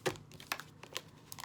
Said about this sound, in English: All right, let me get a good shuffle on